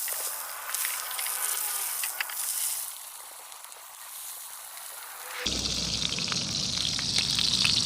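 Garlic sizzles and hisses steadily in hot oil in a pan as it crisps and browns, turning into a louder, fuller frying sound partway through.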